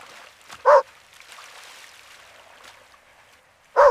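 A dog gives two short sharp barks, one near the start and one at the end, over a soft steady hiss of rain during a storm.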